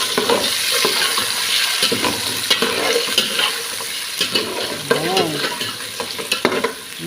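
An egg fries in a hot pan with loud, close sizzling and crackling, and spatters and light clinks of a utensil against the pan break through now and then.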